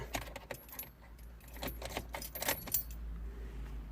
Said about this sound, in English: Let me just turn the ignition on.